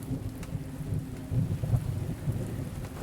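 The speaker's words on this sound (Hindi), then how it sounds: "कुछ ही समय में बारिश की बूंदें खिड़की पर तेज होती हैं।" Steady rain patters on a window while low thunder rumbles underneath, a continuous storm bed used as a sound effect in a horror story, heard alone without voices.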